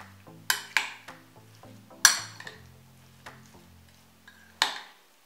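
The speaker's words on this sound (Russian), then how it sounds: "Перемешиваем." A spoon or utensil mixing crab salad with its dressing in a bowl, giving a few sharp clinks against the dish with softer scraping between them, alone and fairly close.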